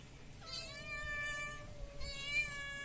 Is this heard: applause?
no